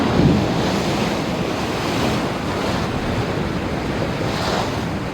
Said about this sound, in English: The sound of the waves crashing against the rocks